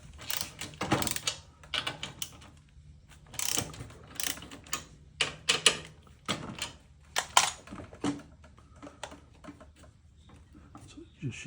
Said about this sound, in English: So I'll take a 3/8 socket and loosen this up and slide it out to do that.